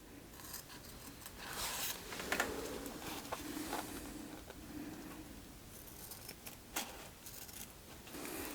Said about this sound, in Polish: Wycinam prostokątną łatkę